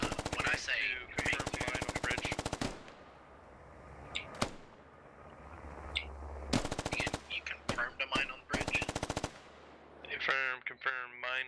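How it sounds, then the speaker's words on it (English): Gunfire in a military video game: bursts of rapid automatic fire alternate with single sharp shots and quieter gaps, some close and loud, with voices talking briefly near the end. "Do you hear these gunshots to your west?"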